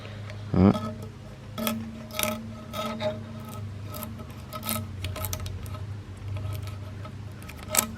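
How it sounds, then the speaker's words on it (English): A fresh razor blade scrapes an engine lower plenum mating surface, removing powder coating in short, dry rasping strokes at close range, with a sharp knock early on and quieter scratches between strokes. "Always do this with a nice fresh razor blade so you don't damage your mating surfaces."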